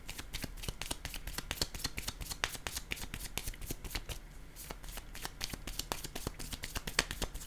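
Tarot cards shuffled by hand, a steady run of crisp, close riffling flicks with a brief pause midway, heard alone without talk.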